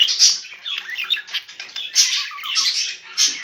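Many pet birds in a breeding pen chirp, tweet and squawk together in a dense, continuous chorus with bright overlapping calls, close by and no talking.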